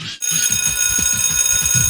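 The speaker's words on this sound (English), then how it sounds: "It's time for school, but you're not going to be saved by this bell." A school bell rings with a continuous bright metallic ring, loud and steady over a low rhythmic pulsing beneath it, after a brief silence.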